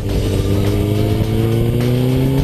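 Suzuki racing motorcycles accelerate on a race track during a race, a dense, loud, sustained engine roar with rising pitch and several machines blending together.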